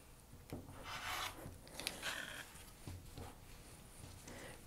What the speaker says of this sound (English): So then I just trim two sides.